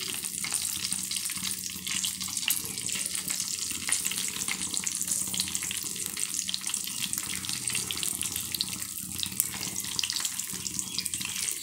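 Fish slid one by one into lightly heated oil, giving a steady, close hiss and sizzle that runs unbroken throughout, with no voices.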